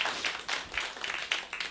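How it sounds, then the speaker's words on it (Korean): A few scattered bursts of clapping from a small audience at a Korean morning assembly, honoring elderly women in their late seventies; the claps come in short uneven clusters, fairly faint and thin. "이 세 분 박수 다시 한번 부탁드릴게요."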